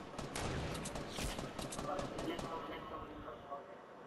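Shotgun fire in the Fortnite battle royale game, with dense, rapid bursts of shots and impacts running through most of the stretch, mixed with other game noise and a voice talking in the background.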